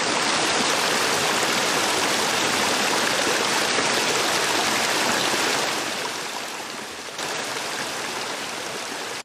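A game-level waterfall rushes in a loud, steady broadband roar that holds constant, then drops slightly in level partway through as the listener's distance changes.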